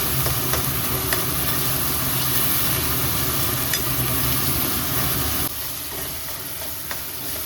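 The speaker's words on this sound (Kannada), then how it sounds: "ಮಾಮೂಲಿ ಸಾಸಿವೆ, ಉದ್ದಿನಬೇಳೆ, ಈರುಳ್ಳಿ ಹಾಕೊಳ್ಳೋಣ. ಈರುಳ್ಳಿ ಹಾಕ್ತಾ ಇದ್ದಾರೆ, ಸಾಂಬಾರು ಈರುಳ್ಳಿ." Sambar onions tossed into hot oil with mustard seeds and urad dal fry with a steady, loud sizzle and scraping stirs, the hiss dropping a little softer near the end.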